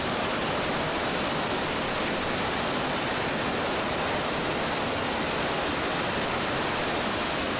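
Eurobin Falls on Mount Buffalo roars in a steady, unbroken wash of white noise, loud and close, with no voices or other sounds breaking through.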